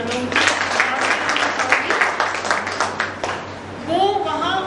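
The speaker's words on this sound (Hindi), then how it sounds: "चाहूंगी कि सब लोग तालियां भी बजाएं।" A crowd at a Dalit rights and law meeting in Bhopal applauds steadily for about three and a half seconds, a dense patter of many hands, before a voice begins talking as the clapping fades.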